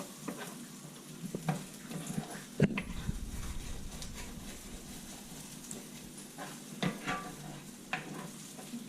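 Chorizo sizzles in a pan as it cooks for cornbread, a faint steady crackle with occasional scrapes and stirring knocks close by.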